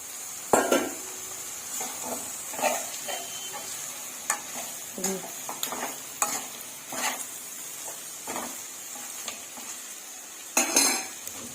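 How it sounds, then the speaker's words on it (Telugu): Boiled mutton fries in a pan with turmeric while a metal spoon stirs it, sharp scrapes and clinks against the pan recurring every second or so over a soft sizzle. "ఉడికించిన మటన్ ఇప్పుడు వేసుకోవాలి."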